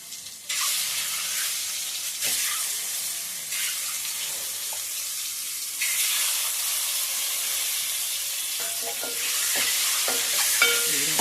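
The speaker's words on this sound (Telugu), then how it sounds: "ఈ ఆయిల్లో ఫ్రై చేసి పెట్టుకోవాలి" Boiled eggs fry in oil with turmeric for an egg kurma, loud bursts of sizzling that swell and fade in waves, with a few clinks and stirs toward the end, no speech.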